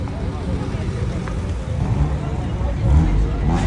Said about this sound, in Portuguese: É carro que não acaba mais chegando no evento